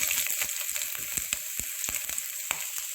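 Shahjeera and ginger pieces fry in a teaspoon of oil in a pan, a constant close sizzle broken by sharp crackling pops and spatters, with no voices.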